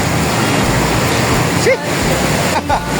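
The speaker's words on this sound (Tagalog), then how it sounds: "Parang ilog." Broad rushing water, like a river flowing near Quirino Station, a steady loud wash with a couple of brief chirpy squeaks over it.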